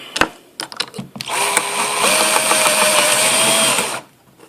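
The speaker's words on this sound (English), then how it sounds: "This is how not to drill a hole in metal." A handheld power drill bores a hole in metal with the workpiece not clamped in a vise, a few clicks and knocks giving way to a loud, steady whine that runs about two and a half seconds and then stops.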